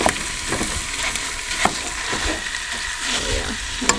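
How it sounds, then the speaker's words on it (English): Food searing in a very hot pan on a winter truck-camping stove, stirred and broken up: crackling sizzle with repeated sharp scraping and tapping strokes of a utensil, close by, with no voices. "Oh yeah, the bottom's getting a little seared, so you have to mix it up."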